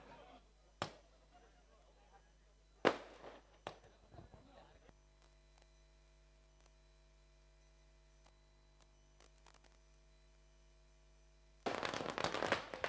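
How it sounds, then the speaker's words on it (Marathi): Firecrackers set off at an outdoor prize-distribution ceremony for a cricket tournament, a few sharp bangs early on, then a dense loud crackling burst at the end, with an announcer speaking over a PA in between. "फटाक्यांच्या आतिषबाजीनं अध्यक्ष साहेबांचा शाही सत्कार शेलोमाता 40 प्लस वर्ल्ड संघाच्या वतीनं केला जातोय"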